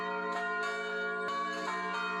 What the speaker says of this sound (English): places of worship across the Steel City rang their bells in unison